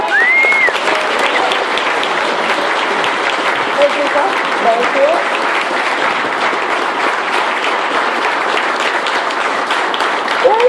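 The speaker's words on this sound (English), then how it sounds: "can we have a little round of applause" Audience applause at a campaign kickoff event, steady dense clapping filling the room throughout, with a brief spoken thanks and some talk at the start.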